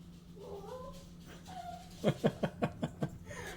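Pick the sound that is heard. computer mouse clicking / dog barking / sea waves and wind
dog barking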